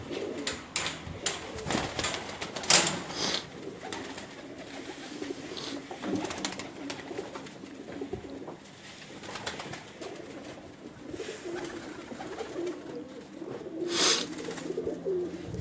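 Pigeons of a flying breed coo in a loft, soft repeated low calls with occasional wing flaps and scattered bird chatter, continuous through the scene with no talking.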